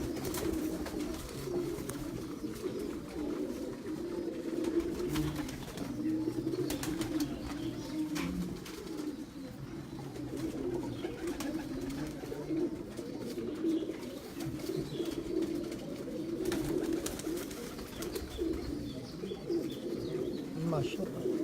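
Pigeons coo on a rooftop loft, a steady low warbling chorus running throughout under a background of voices and bustle.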